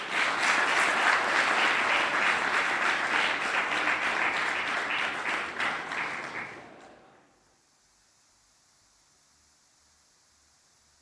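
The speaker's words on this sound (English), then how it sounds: "So you have to give a better clap for him to come out from backstage." A festival audience at a film and TV awards event claps again to bring a moderator out from backstage, sustained dense applause for about seven seconds before cutting off abruptly into silence.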